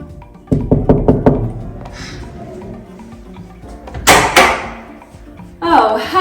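Someone raps on a Rome apartment door with a quick run of about six close, sharp knocks, followed by thuds and door movement, with voices in the background.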